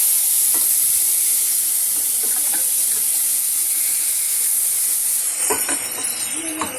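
Mashed spinach stirred into a sizzling mustard seed and urad dal tempering for keerai kootu, a loud continuous hiss and sizzle with a few stirring clatters near the end.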